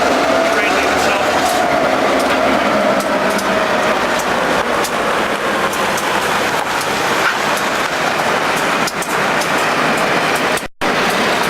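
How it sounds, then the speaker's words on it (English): A train with an SW1 switcher locomotive pulls away southbound on a secondary line, heard from the cab as a loud steady rumble with rail clatter and rhythmic clicks throughout. "Train leaving south."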